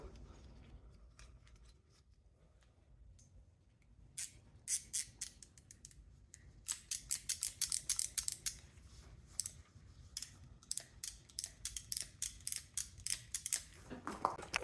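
Heavy copper cable ends from a scrapped forklift battery charger being snipped with cutters, a quiet lead-in followed by a rapid run of sharp, close metallic clips and snaps, with no talking.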